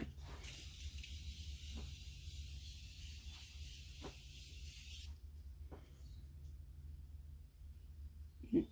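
Morphe setting spray hisses in a sustained fine mist for about five seconds before cutting off, leaving near-silent room tone with a few faint handling sounds.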